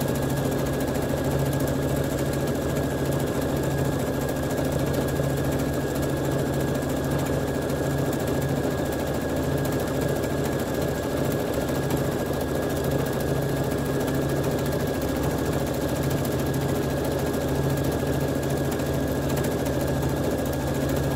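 A sewing machine runs continuously, stitching randomly across soluble film as the fabric is moved about, giving a steady, close, loud mechanical drone with no speech.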